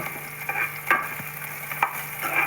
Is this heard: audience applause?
no